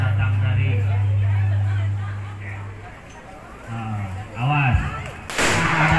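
Firecrackers go off at a Betawi Palang Pintu performance, with a sharp, loud crack near the end amid voices, a low engine drone and scattered bangs.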